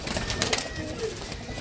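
Pigeons coo and flutter briefly as a flock is released for a pigeon-flying game, a close, short burst of bird sounds with faint voices nearby.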